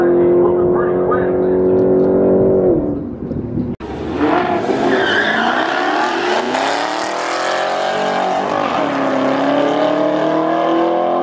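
A VW MK7 Golf R launches down a drag strip, its engine rising in pitch through a gear change and roaring loud and close, with tire noise and a voice talking over the run.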